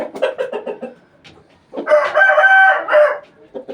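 Several chickens cluck nearby, then a rooster crows loudly in a long drawn-out call, with more clucking around it.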